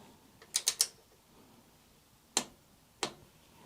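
A torque wrench set to 5.5 newton meters tightens a swingarm bolt on a Yamaha Virago 1100 motorcycle: a quick cluster of three sharp ratcheting clicks, then two separate single clicks, close and clear over a quiet background.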